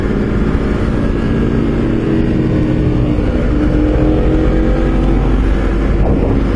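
A Honda CBR 250RR sport motorcycle is ridden from the rider's position, its engine a loud, constant roar mixed with strong wind rush, with slight shifts in pitch as the rider changes gears.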